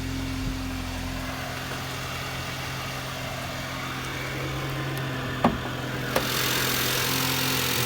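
A 2017 VW Passat SEL's 1.8 TSI engine idles smoothly with a steady, low, even hum throughout. Two brief faint clicks sound near the end, and nobody speaks.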